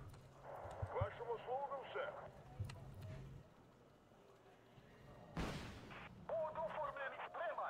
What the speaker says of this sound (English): that's Bradley shooting at us